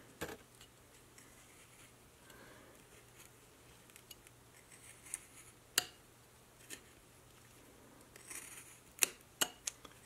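Scissors snipping through material while a cowboy costume is made, giving a few faint, scattered clicks and snips over a quiet room background.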